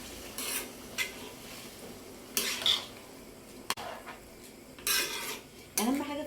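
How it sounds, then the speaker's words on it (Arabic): Rice sautéed in oil for Egyptian koshari gets its water, with scattered clinks and scrapes of a spoon and pot, short bursts of hissing sizzle, and a rising pouring tone at the very end. "شوحيه كويس بقى كده في الزيت، وبعد كده حطي عليه الميه"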